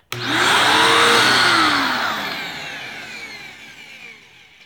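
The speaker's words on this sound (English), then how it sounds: "I'm just going to go ahead and vacuum this couch off" A vacuum cleaner working over a couch roars up loudly with a rising whine, then its pitch and volume gradually sag as it runs on close by, with no talking.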